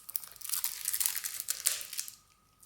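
Close, crisp crinkling and tearing of cardboard and plastic wrapping as a Pokémon Build & Battle Stadium box is opened, a dense burst of rustles lasting about two seconds before fading to quiet.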